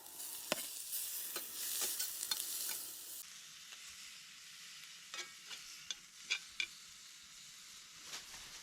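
Bacon, onion, garlic and a sausage fry in a pan at an off-grid campsite, a soft steady sizzle close by with scattered scraping and stirring knocks from a utensil.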